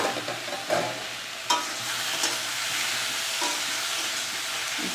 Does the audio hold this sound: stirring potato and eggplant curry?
yes